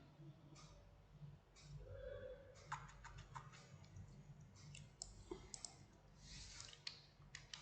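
Computer keyboard typing sounds close and clear, with bursts of irregular key clicks that grow denser toward the end, over quiet room noise.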